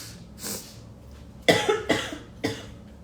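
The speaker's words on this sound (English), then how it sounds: "I've had a cough for 2 weeks and it's just now getting better" A person coughs several times, close and sharp: one softer cough, then a cluster of three harsh bursts and a final one, after two weeks of illness.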